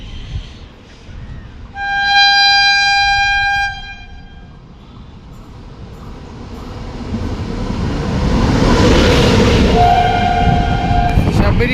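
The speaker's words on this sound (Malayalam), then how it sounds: "P7 വെച്ചിട്ടൊരു ട്രെയിൻ വരുന്നുണ്ട്." The Sabari Express superfast train pulls into Irinjalakuda railway station, sounding two loud, sustained horn blasts while a deep rumble of wheels and carriages grows louder as it approaches.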